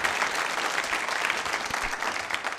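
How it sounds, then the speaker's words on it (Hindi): Sustained applause from a seated audience at a college quiz show, steady dense clapping filling the whole moment without a break, moderately loud and close. "इनके लिए ज़ोरों से तालियां बजाइए"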